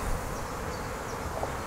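A swarm of Dark European honey bees hums as a dense, steady, close buzz while falling bees are caught in a swarm box outdoors, with no voices.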